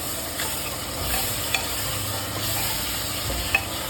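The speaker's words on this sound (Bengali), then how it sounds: "বেশ কিছুক্ষণ ভেজে দিতে হবে" Onions and spice paste frying in a pan for Bengali mutton kosha, a steady close sizzle with scraping stirring strokes and two sharp spoon taps, no voices.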